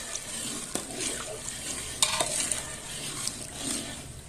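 Zarda mixture with roasted peanuts and orange peel is stirred in a pot, giving a soft, continuous wet churning and scraping with a couple of sharper clinks of the spoon against metal. It sounds close, with no talk.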